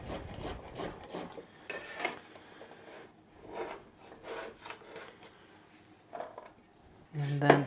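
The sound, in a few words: knife slicing vegetables on a cutting board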